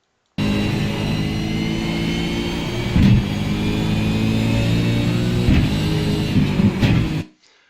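Race car at Sebring accelerating hard in third gear, a loud, steady close engine drone climbing in pitch with a couple of brief bumps, then cutting off abruptly near the end.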